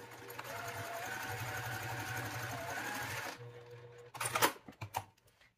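Sewing machine running steadily while stitching straight seams on a fabric-panel project bag, a continuous close mechanical whir with rapid needle rhythm for about three seconds, then stopping, followed by a few handling clicks and rustles.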